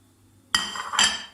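Cashews dropped into a metal kadai, two quick bright clinks and rattles in close succession, nearby and crisp against a quiet background.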